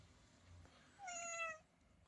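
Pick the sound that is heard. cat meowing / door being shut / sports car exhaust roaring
cat meowing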